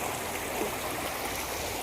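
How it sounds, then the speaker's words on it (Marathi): Water flows steadily along an irrigation channel in a Konkan village, a continuous rushing, burbling wash with no pauses and no voices. "झुलझुल वाहणारं पाणी पाटाचं पाणी आहे"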